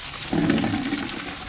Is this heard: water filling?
yes